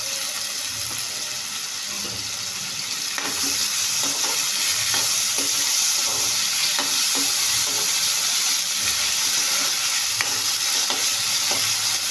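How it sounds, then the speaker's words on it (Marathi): Steady sizzling of potatoes stir-frying in a pan, with repeated scraping and stirring strokes, continuous and fairly close, no voices. "आता हा बटाटा आपण चांगला लालसर परतून घेऊया"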